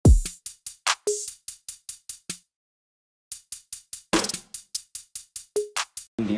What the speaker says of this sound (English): It's like a drum pattern. It sounds like this.